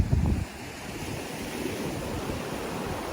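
Heavy ocean surf and gusting wind batter Clearwater Beach during Hurricane Helene, a dense, continuous roar that starts with a louder burst of wind buffeting the microphone, then settles into a steady wash.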